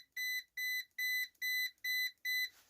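A Sunshine DT890N multimeter's continuity buzzer sounds six short, evenly spaced, loud beeps in quick succession, standing alone with no talk.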